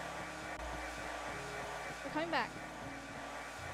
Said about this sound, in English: I love that you can hear the hairdryer.